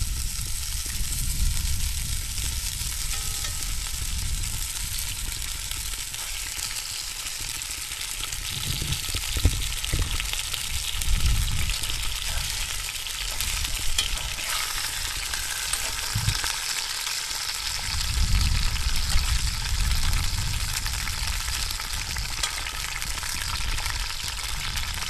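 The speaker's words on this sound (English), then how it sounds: "we're just gonna put these pork chops in here and start browning them" Pork chops brown in hot oil at a campfire cookout, a continuous fizzing sizzle with occasional low bumps and handling noises, close and steady throughout.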